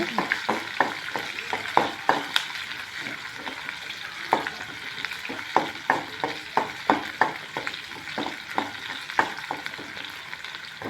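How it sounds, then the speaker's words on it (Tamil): Curry leaves sautéing with salt in a pan, a steady close sizzle broken by repeated sharp scraping stir strokes in an irregular rhythm throughout, with no talking. "கருவேப்பிலை வதங்கிறதுக்கு கொஞ்சம் உப்பு போட்டுக்கோங்க நல்லா வதங்க விடுங்க"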